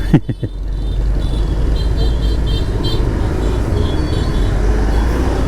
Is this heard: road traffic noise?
yes